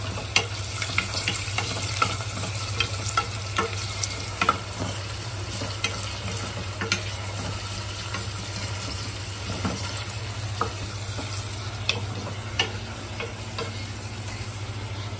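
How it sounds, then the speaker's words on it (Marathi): A large chopped onion sautés in oil in a pan for yakhni pulao. It sizzles steadily and loudly, with intermittent scraping and clicking as it is stirred, and there is a low hum underneath. "कांदा चांगला व्यवस्थित परतून घ्यायचा."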